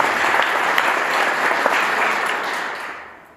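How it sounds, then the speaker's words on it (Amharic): An audience claps steadily at a youth development gathering, a dense wash of many hands that holds loud and even, then fades out over the final second. "አጨብጭቡ።"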